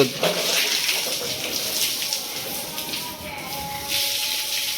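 Water sprays steadily from a hose inside a poultry shed as the mesh and metal sheets are washed down, a loud continuous hissing rush that never pauses.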